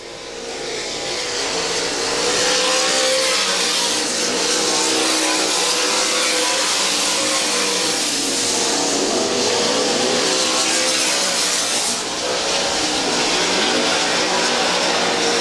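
OCRS sprint cars racing at Monett Speedway, a loud, continuous engine roar from the pack that holds steady throughout with slight swells as cars pass.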